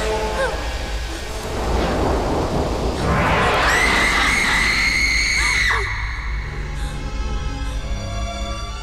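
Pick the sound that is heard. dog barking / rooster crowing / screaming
screaming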